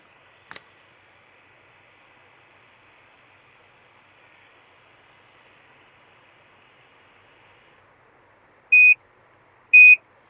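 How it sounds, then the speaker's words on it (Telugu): An automatic hair curler, used to curl long hair, gives two short, loud, clear beeps near the end, a second apart, after several seconds of faint steady hiss. "బీప్ వినిపిస్తుంది కదా, వినిపించిన తర్వాత మీరు ఫింగర్ అనేది ఇక్కడ నుంచి రిమూవ్ చేసేయాలి."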